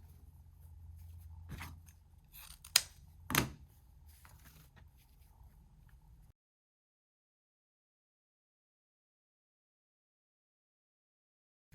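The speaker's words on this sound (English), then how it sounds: "I'm going to take 2 at a time of each ribbon and dovetail them to cut down on some time." Scissors snip through ribbon pieces being cut into dovetail ends for a Valentine wreath, heard as a few close, crisp cuts and rustles. Two sharper snips are clearest, and the clip then falls silent.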